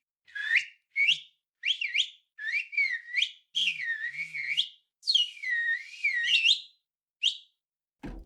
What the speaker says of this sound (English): So next up we have some Fiddler Whistles.